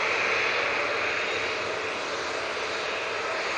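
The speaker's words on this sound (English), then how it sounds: "the A321neo is spooling up" Airbus A321neo jet engines spool up at Manchester Airport, making a steady, fairly faint broadband roar that holds at an even level throughout with no talk.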